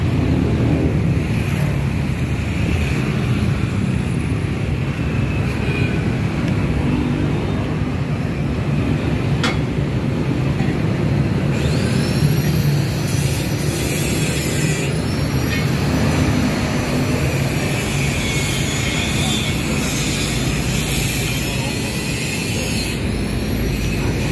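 A Dongfeng S1135M single-cylinder diesel engine with electric starter runs continuously, giving a loud, steady rumbling drone with broad mechanical noise throughout and no voices.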